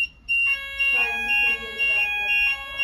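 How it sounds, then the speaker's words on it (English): A fire alarm system panel sounds in repeated tonal pulses, ringing and steady, with a voice speaking over part of it. "That'll operate the fire alarm system."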